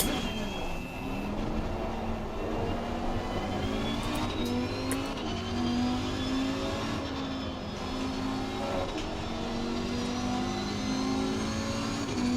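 Race car engines in Assetto Corsa Competizione on Silverstone or Brands Hatch: a dense, steady pack of revving engines drones for the whole stretch, with rising and falling pitch sweeps as cars shift gears, loud and continuous with no talk.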